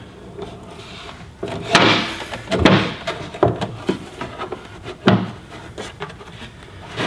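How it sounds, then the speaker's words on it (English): A wooden drawer slides into a cabinet on metal drawer slides in a workshop, with several sharp knocks and thuds and scraping glides spread across the clip, fairly close. "and slide my drawer in."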